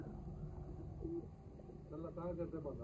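Soft Sialkoti pigeons coo faintly against a low background rumble, while a voice murmurs nearby.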